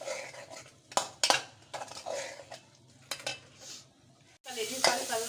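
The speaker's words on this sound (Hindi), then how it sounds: "ये थोड़ी सी मैं मेथी डाल रही हूँ और इसके बाद भून के और उतार लेती हूँ" Kaleji fries in a pan with fenugreek added, a utensil stirring and clinking against the metal with sharp scrapes over a steady sizzle, ending in a louder burst of frying.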